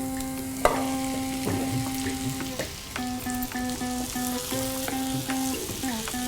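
Steady frying sizzle of chickpeas mixed with masala in a pan, with light scraping and stirring knocks and a faint tonal hum running underneath.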